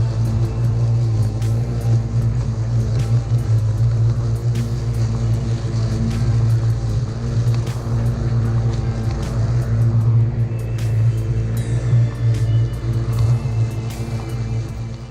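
Bosch Rotak 37 LI cordless 36V battery lawn mower running steadily and close, a continuous low motor hum and whir with a rough, even drone throughout and no voices.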